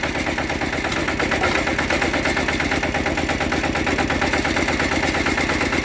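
A Kubota KRT 140 Plus tractor engine runs steadily and loudly up close, its rapid chugging pulse continuous throughout with no talking over it.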